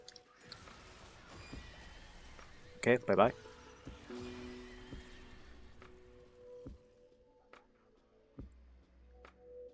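Spectral horses summoned by Dagath in the Warframe video game, during Steel Path combat, let out a brief, loud whinnying burst midway through, set against faint game ambience and a person speaking.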